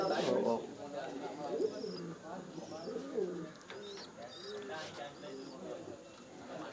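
Racing pigeons coo softly and repeatedly inside a loft, a low murmur of several birds mixed with faint chirps while someone talks over them.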